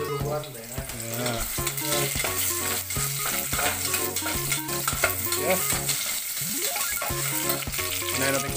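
Onion and garlic sauté with a constant sizzle in a pan for chicken gisado, with repeated scraping stirs, all under loud background music.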